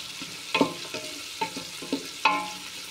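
A utensil scrapes and knocks against a pan in irregular strokes while onions and garlic fry, with a steady sizzle underneath, close and fairly loud.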